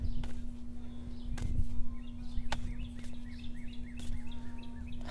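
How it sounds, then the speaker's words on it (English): Birds chirp and tweet repeatedly at moderate distance over a steady low hum, with a few sharp knocks and faint background rumble. "I don't know if you can hear the birds chirping,"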